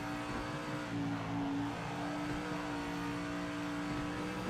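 A race car engine in the racing game Project Motor Racing runs at a sustained high pitch, its steady droning roar shifting slightly in tone as it holds revs throughout.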